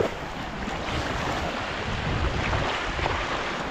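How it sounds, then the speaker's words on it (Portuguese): Wind gusts across an open lagoon at Ponta da Alcaíra, Arraial do Cabo, with small waves lapping, a loud continuous rushing roar of wind against the microphone mixed with water wash. "tem um pouquinho mais de onda. E o vento tá começando a aumentar."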